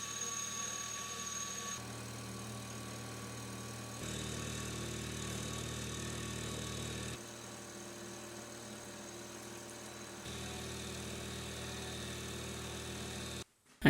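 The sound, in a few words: machine cutting a female dovetail slot in a metal slide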